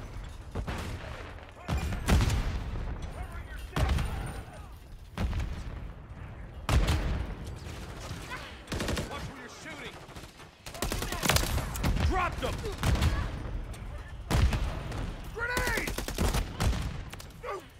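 Bursts of automatic gunfire and explosions from Call of Duty Modern Warfare 3 fighting against bots, with repeated loud volleys and booms running through the whole stretch, mixed with shouted in-game radio callouts.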